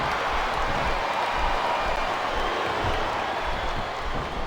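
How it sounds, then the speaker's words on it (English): Dense arena crowd roar from a capacity wrestling audience in Smackdown vs Raw 2007, a steady, loud wash of cheering and noise that holds evenly throughout with no clear speech over it. "This capacity crowd is making their opinions known tonight."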